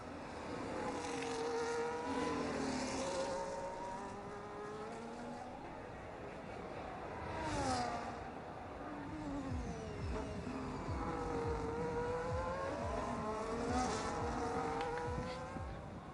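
Race car engines in a sim racing game at Las Vegas roar steadily with rising and falling pitch sweeps as cars pass, some nearer and louder, under continuous track ambience.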